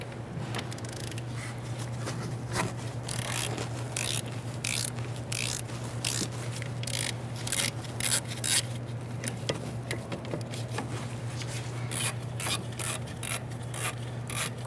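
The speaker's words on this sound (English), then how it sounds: "We're going to get this bolt out and the one way down here out with a 14mm socket." A 14mm socket on a ratchet loosens a brake caliper slide bolt on a 2014-2018 Subaru Forester, giving rapid clicking ratchet bursts and scraping metal handling over a steady low hum, with no talking.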